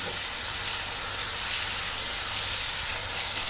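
Spice masala with onion, ginger and garlic cooks in a pan just after water is added, giving a loud, close, steady hiss that runs unbroken throughout.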